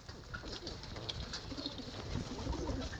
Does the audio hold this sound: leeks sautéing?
no